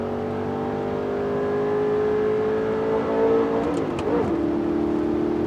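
An Audi R8 Spyder 4.2-litre V8 engine holds a steady, loud droning rev, the pitch climbing slowly before dipping and wavering near the end, heard up close.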